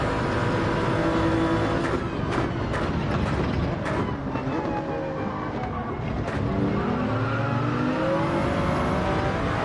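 A Gr3 race car runs flat out at top speed along the straight at Fuji in Gran Turismo 7, its engine a steady, loud, sustained high-revving drone that fills the whole stretch without a break.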